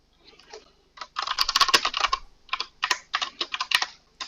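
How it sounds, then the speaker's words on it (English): Typing on a computer keyboard: after a few soft taps comes a busy run of close, crisp key clicks in quick bursts with brief pauses between them. "He's typing."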